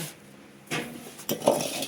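A few metal cooking pots clanking and scraping together close by as they are washed, brief irregular knocks over a quiet background.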